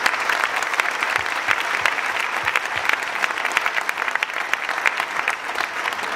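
Audience applause at a speech during a comedy evening in France, a dense, sustained wash of many hands clapping, loud and steady throughout with no talk.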